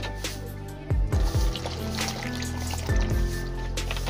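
Water is poured into a bowl for a green fuchka filling, with splashy glugs and drips in a few close bursts over a constant background hum, and no talk.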